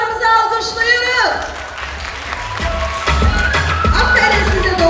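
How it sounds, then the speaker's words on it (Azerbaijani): An audience at a 2025 olympiad award ceremony applauds the winners, a broad wash of clapping that rises after a voice trails off and continues steadily. "Dostlarımızı alqışlayırıq."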